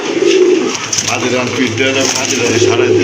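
A Blue Bar Magpie Danish pigeon coos in repeated low, rolling phrases, close and clear, while someone speaks over part of it.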